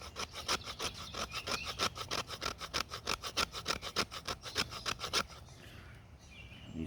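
A knife spine rakes down a piece of still-wet wood outdoors, shaving off sawdust-like tinder in a fast, even run of about two dozen rasping strokes, close and rhythmic, before stopping and leaving faint ambient quiet.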